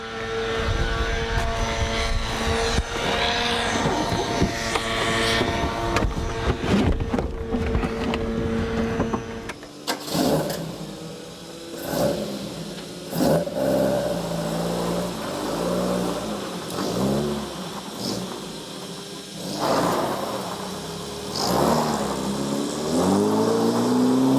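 A Caterham sports car with a pushrod 1600cc engine drives on a road, its engine droning loudly and revving up and down through gear changes, with wind rush and the shifting pitch of acceleration.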